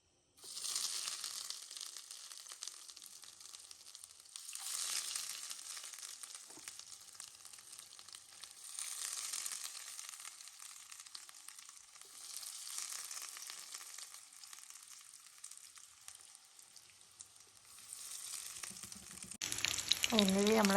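Sweet potato cutlets fry in a pan with a faint, steady sizzle that swells and fades in waves, growing louder and busier at the end.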